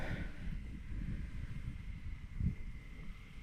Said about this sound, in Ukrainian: Да, цей вітер.